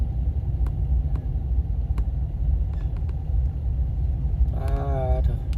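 Motorcycle and car traffic rumbling along a street in Vientiane during Lao New Year, a steady loud engine drone with a brief melodic tone near the end.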